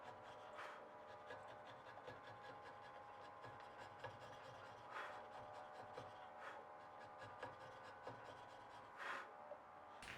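A hand chisel carves and pares hard, splintery wood to fit, producing quiet repeated rasping scrapes with a few sharper strokes against faint background noise.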